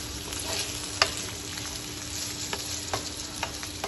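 Karela gosht, bitter gourd with meat, frying in a pot: a steady close sizzle with a few sharp stirring clicks and scrapes.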